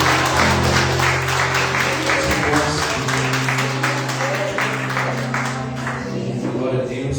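A church congregation applauds during a celebration worship service, steady clapping that runs loud and continuous over sustained music and voices.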